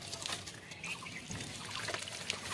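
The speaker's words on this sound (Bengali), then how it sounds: "অল্প অল্প করে গাছে গোড়ায় জল দিয়ে দিচ্ছি।" Water poured little by little around the base of a mango tree, a soft close trickle and splash on soil, steady and faint throughout.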